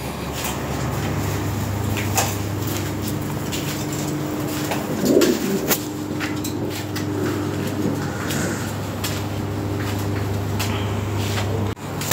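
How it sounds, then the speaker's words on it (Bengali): Show-quality European Lahori pigeons in a breeding setup coo faintly and intermittently over a steady low hum, with occasional clicks and knocks from the cages. "একদম শো কোয়ালিটি কবুতর"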